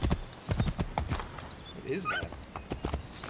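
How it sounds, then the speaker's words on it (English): Horse hooves clip-clopping in the game Assassin's Creed III, a few close, uneven hoof thuds in the opening second, followed by a high whinny-like sound, with someone speaking briefly over it. "And here's some horse hooves and heavy breathing"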